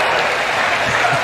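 At the College World Series, an LSU baseball crowd claps and cheers in a dense, loud wash of applause that runs steadily through the short moment.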